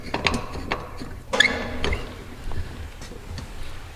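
A bolt on a homemade shop-built tire changer is tightened with quick, close ratcheting clicks in short irregular bursts, and no one speaks.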